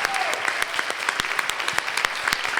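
An audience at an Atlanta small business mayoral forum gives the candidates a round of applause, dense and steady clapping filling the room at close range without a break.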